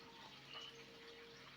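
A small pond fountain trickles water into a pool, producing a soft, continuous splashing murmur that stays faint and even throughout with no voices.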